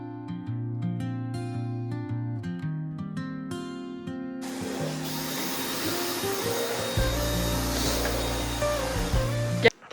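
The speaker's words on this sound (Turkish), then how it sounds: "Şimdi en hızlısından burayı toparlayıp süpürüyorum." A household vacuum cleaner runs across the floor while a room is tidied during a holiday gathering, a steady loud whine that comes in about halfway through over music and continues to the end.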